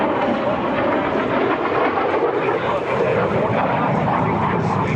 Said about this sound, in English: the MiG-17 was one of the first airplanes to feature that of an afterburner